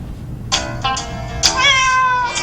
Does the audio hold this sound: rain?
no